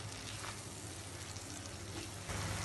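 Tomato and chili paste masala being fried down in oil for chicken bharta, a faint, steady hiss of sizzling throughout with no talking.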